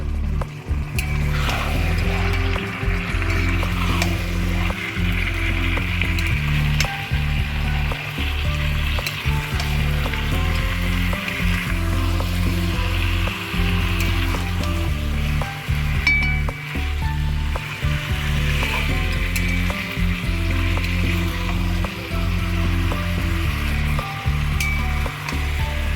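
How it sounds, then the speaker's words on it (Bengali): Chicken pieces with spices sizzle loudly in a pan while being stirred for chicken kosha; a steady, close frying hiss runs throughout with repeated scraping stir strokes and occasional clinks, and no talking. "ব্যাস, এবার কষাতে থাকবো।"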